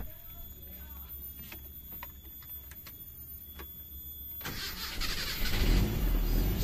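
A car fitted with a CNG fuel system cranks and fires up after a quiet stretch with faint background sounds, its engine noise swelling loud and rough over the last two seconds.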